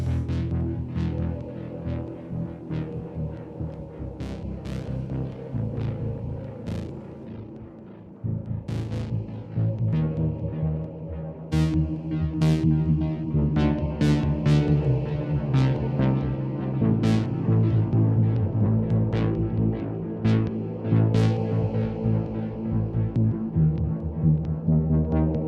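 A Behringer 2600 synthesizer runs through external delay and reverb, with layered echoing tones and sharp repeated attacks that build and thicken over a sustained wash, heard alone without talk.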